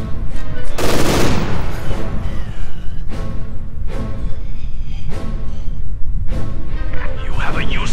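Enemy machine gun fire in a wartime video game, sustained rattling bursts with heavy impacts roughly every second, loud and close, mixed with game voices and battle noise.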